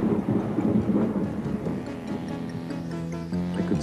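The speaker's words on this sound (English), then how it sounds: "as lightning and thunder." Low thunder rumbles in a long rolling wave, with a steady hiss of rain-like noise underneath.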